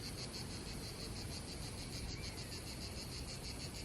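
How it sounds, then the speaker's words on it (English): Cicadas on a sunny French Riviera hillside near Bormes-les-Mimosas buzz in a dense, unbroken chorus that fills the whole stretch at steady loudness, with no voices over it. "You can hear the cicadas having a great time."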